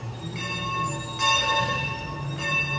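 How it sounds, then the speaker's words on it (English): A summer camp bell rings for the kids, heard as steady sustained tones that swell in two stronger bursts over a low background hum, with no talking. "That's the bell for the kids."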